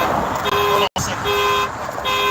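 A car alarm set off with the key fob's panic button sounds close and loud, its steady electronic tones pulsing and shifting pitch, cut by one brief gap.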